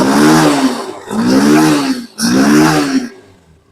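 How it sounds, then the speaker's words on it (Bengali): A motorcycle engine converted from fuel injection to a carburettor, running on its old control unit, revving up in three loud close bursts with short dips between them, then dropping away. "বাইকটা কিন্তু এক চান্সে স্টার্ট"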